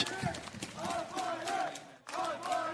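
An esports crowd at a Valorant match between Fnatic and Vitality chants for a player, with rhythmic swells of massed voices repeating across the clip. The chanting is moderately loud and carries under a slightly distant, reverberant arena feel.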